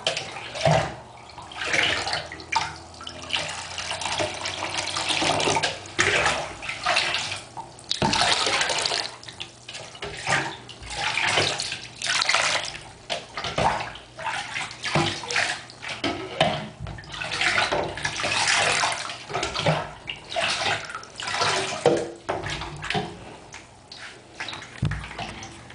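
Water splashing and pouring over a cat being bathed in a tub, a steady run of loud, close splashes and trickles with short pauses, almost no talk.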